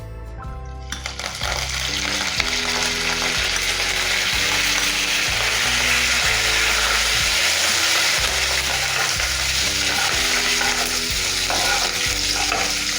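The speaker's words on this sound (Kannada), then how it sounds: "ಈಗ ನಾನು ಸ್ವಲ್ಪ ಕಟ್ ಮಾಡ್ಕೊಂಡಿದ್ದು ಕರಿಬೇವು ಹಾಕ್ಕೋತೀನಿ." Curry leaves hit hot oil with a loud, steady sizzle and crackle for a junakad vade tempering, a dense continuous spatter and hiss lasting throughout after a brief quieter start, with stirring clinks underneath.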